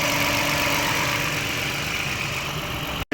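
A 2007–2013 Toyota Kluger/Highlander engine idles while warming up, a steady close mechanical hum with a faint knocking texture, cutting off abruptly near the end.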